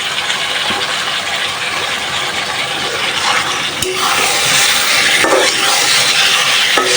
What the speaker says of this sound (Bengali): মুরগির মাংসের জন্য মশলাটা ভালোভাবে কষায় নিলাম আর এখন এগুলো দিয়ে দিব